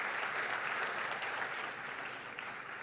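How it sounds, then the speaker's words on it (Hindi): Short burst of steady audience clapping at a talk, moderately loud and even throughout the brief stretch with no speech over it. "तो इसके लिए प्लीज़ एक ज़ोरदार तालियां फिर से।"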